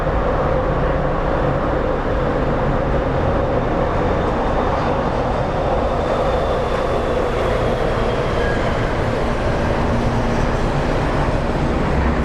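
An autonomous airport sky train at Sky Harbor International Airport rolls past as a steady, continuous rumble with a faint high whine, heard from outside amid broad airport ambience for the whole stretch, with no talking.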